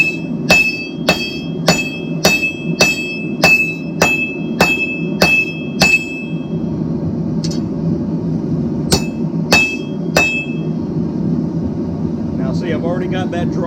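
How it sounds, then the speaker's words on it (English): Hot steel hammered on a steel anvil at an iron shop rings out in a quick regular run of sharp metallic strikes, then a pause, then a few more blows, over a steady background hum with some talk. "Yes, that is a loud noise. It's steel on steel,"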